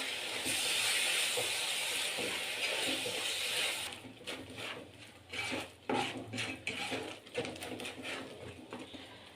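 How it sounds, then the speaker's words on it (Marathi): Modak filling is mixed with milk in a pan: a loud hiss at first, then a series of rhythmic scraping and clinking strokes of a utensil against the pan. "त्याच्यामध्ये एक वाटी दूध टाकून घ्यायचं आहे आणि छान मिक्स करून घ्यायचं आहे"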